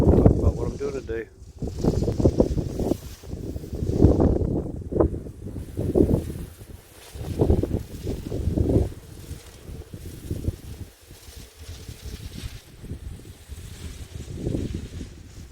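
Gusty wind buffets the microphone in low rumbling bursts while a person talks throughout.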